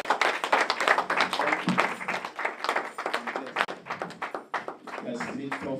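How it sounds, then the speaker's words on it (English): Church congregation at a Redeemed Christian Church of God service claps steadily and rapidly together, the dense, close clapping mixed with loud voices speaking and calling out throughout. "Let's clap for Jesus."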